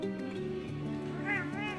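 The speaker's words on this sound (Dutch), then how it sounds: "Een miauw, miauw?" A cat meows twice near the end, rising and falling wavering calls, heard over a steady background hum and faint domestic noise.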